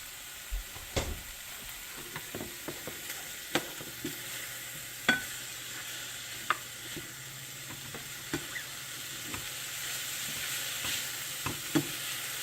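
Two tablespoons of unsalted butter sizzle in a pan with a steady hiss, broken by scattered sharp pops and occasional stirring clicks. No one speaks.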